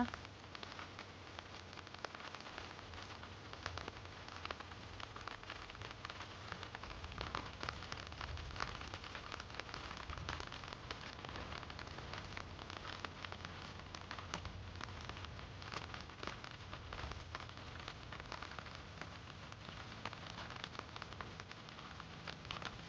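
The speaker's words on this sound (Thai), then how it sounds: "วันนี้ฝนตกทั้งวัน นะคะ ฝนก็ ตกทั้ง วัน" Steady rain patters continuously on a surface, a dense, even hiss with scattered drops, unbroken and fairly quiet, with no voices.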